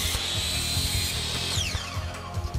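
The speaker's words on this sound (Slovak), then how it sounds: "Potom narežte zvislé drážky do panelov okružnou pílou na tlakovej strane panelu." A power saw whines steadily while cutting grooves into insulated concrete form panels, with close, continuous buzzing, a pitch drop partway through and rhythmic low thumps underneath.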